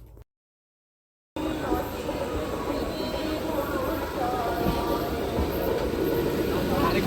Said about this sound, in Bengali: ট্রেন ঢুকছে গোপালনগর স্টেশনে এই ট্রেনটা মোটামুটি টাইমেই ঢুকে যায়